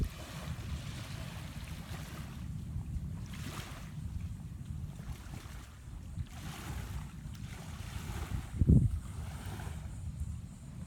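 Ocean waves roll in at the shore with a steady breeze, making a low, continuous wash with gentle swells, wind buffeting the microphone and a short thump near the end.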